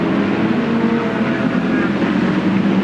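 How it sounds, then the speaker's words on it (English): A Penske Porsche sports racer at the 2007 Detroit race screams at full throttle, a loud, sustained engine roar with no talking. "Boy, listen to that throttle."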